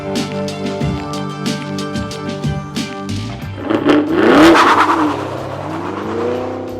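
An American V8 in a sixth-generation car burbles with rapid, rhythmic throttle blips, then surges into a loud, rising rev with tire squeal before settling back to a throaty idle, close and without talk.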